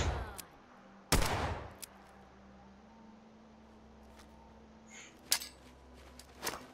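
Gunfire in Fallout 4 aimed at bats: one loud close shot near the start, then a few sharper, quieter shots spaced apart over a steady low game hum.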